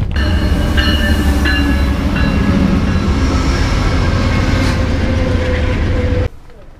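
Amtrak passenger train standing at a station platform before boarding, with a steady low rumble of idling rail cars and faint squeals throughout, ending abruptly near the close.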